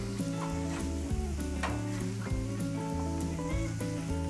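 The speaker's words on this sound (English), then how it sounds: "I'm probably gonna leave these onions on just so I can saute them a little bit more" Onions sauté on a Blackstone griddle with a continuous close sizzle and occasional scraping of a spatula, heard under a bed of background music.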